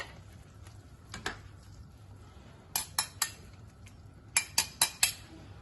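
A metal skimmer stirs crushed tomatoes in a pot for jambalaya, giving sharp metallic clinks against the pot in scattered taps and then quick bursts of three or four, close and fairly quiet.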